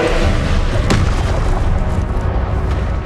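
The Expelliarmus spell cast during combat in the Hogwarts Legacy video game, a loud booming burst with a sharp transient over dense, continuous battle noise.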